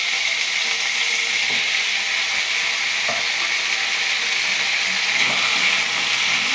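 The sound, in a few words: red amaranth stalks frying with chilli and mustard in a pan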